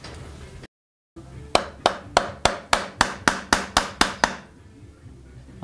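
Hammer blows on metal parts during the teardown of a Chinese motorcycle that fell apart after 7800 km: about ten sharp, evenly spaced strikes ringing close and loud after a short pause, with no talk.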